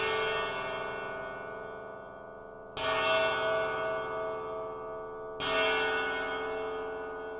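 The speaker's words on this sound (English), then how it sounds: "Very metallic, very gong-like." Metallic, gong-like tones from a Karplus-Strong resonator synthesizer, three sustained bell-like strikes rich in ringing overtones, each new hit entering loudly over the slowly decaying ring of the last.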